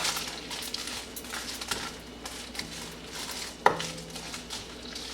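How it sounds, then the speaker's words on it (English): Whole red chillies, green chillies, cardamom, cloves, a cinnamon stick and bay leaf are stirred in a pan, with soft scraping and rustling, faint sizzle and one sharp metallic clink, quiet and close. "whole red chilli, green chilies, cardamom and cloves, plus cinnamon stick. Give it a good stir."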